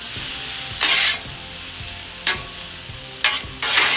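Seasoned potatoes sizzle steadily on a flat top grill, with a few bright bursts of scraping and stirring as a spatula mixes them in; no one talks.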